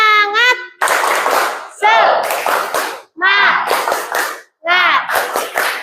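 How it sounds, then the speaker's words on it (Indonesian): Children in a classroom perform a loud rhythmic clapping chant, with bursts of claps and shouted voices in four groups separated by short pauses, close and energetic. "ayo kita tepuk semangat dulu ya"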